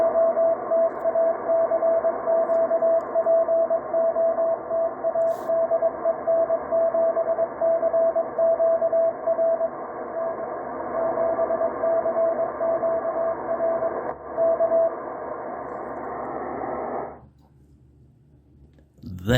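A weak amateur radio CW station on a low-power 950 milliwatt contact pokes through as a faint steady Morse tone buried in loud, continuous hiss and static, which then drops away abruptly near the end.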